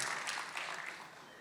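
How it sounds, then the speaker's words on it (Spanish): Applause from a small audience at a church talk, a steady patter of clapping hands that stays fairly even and then eases slightly, with no voices over it. "Ahora aplaude mi mamá"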